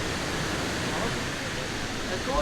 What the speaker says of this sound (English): the river is pretty loud